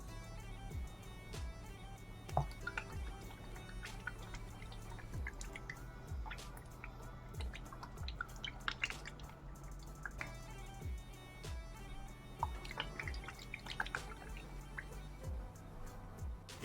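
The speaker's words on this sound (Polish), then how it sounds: "Daję 100 ml takiego sosu sojowego." Soy sauce, about 100 ml, is poured into a spicy Thai cucumber salad in a home kitchen, giving soft drips and liquid splashes with faint clinks, quiet and close.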